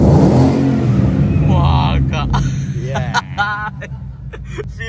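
A Ford Mustang engine revs loudly up close, a deep growl that builds and drops away, followed by sharp blips and pops, while people talk over it.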